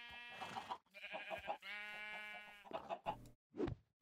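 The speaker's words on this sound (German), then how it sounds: "Übrigens, die Schafe kann man auch mit dem Netz einsammeln." Minecraft sheep bleat several times in a row, close and clear. Each call is a wavering, nasal cry with short gaps between the calls.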